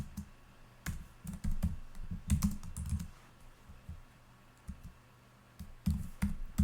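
Computer keyboard keys being typed in short irregular bursts of clicks with pauses between, close and fairly quiet, while entering a comment in a Linux Bash monitoring script, with no voice.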